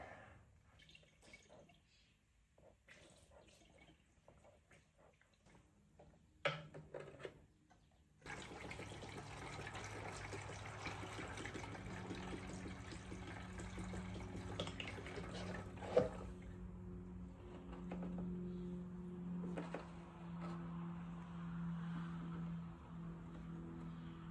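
Coolant is poured from a container into the lower radiator hose of a 2014 Triumph Thunderbird Commander motorcycle. A faint trickle and some drips come first, then a steadier gurgling pour runs on at low volume.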